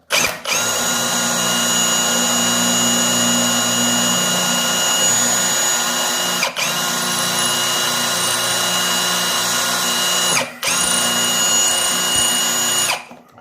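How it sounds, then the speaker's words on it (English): Power drill with a blunt bit grinds steadily through shower enclosure door rivets, a loud continuous whine broken by two brief stalls, with no talking. "I think this drill bit is a bit blunt"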